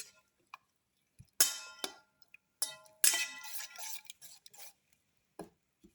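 Fenugreek leaf omelette mixture being mixed thoroughly in a bowl, with scattered light clinks and brief scraping, wet stirring strokes coming in short irregular bursts between stretches of near silence, quiet and close.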